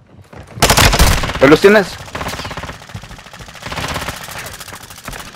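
Rapid automatic gunfire from a Call of Duty match rattles in a dense burst near the start, then continues more softly under excited voices talking over it.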